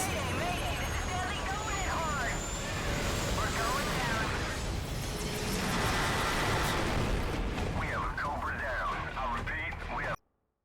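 Helicopter hit and going down in the Modern Warfare video game, a loud roaring rumble of engine and impact noise with warbling alarm-like tones and shouted voices over it, cutting off abruptly at the end.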